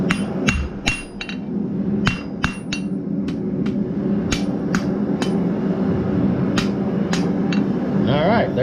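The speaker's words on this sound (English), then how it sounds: "Hit it back up because it's trying to guide back over the horn" A blacksmith's hammer rings sharply on hot iron over the anvil horn while forging a finial for a dinner bell, with a steady series of close, loud, evenly spaced strikes.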